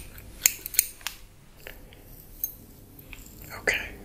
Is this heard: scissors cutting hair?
yes